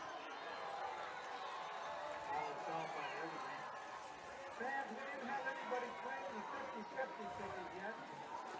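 Crowd of fans at a 2022 WIAA high school football game, a dense murmur of chatter and cheering from the stands with scattered shouts, steady and moderately distant.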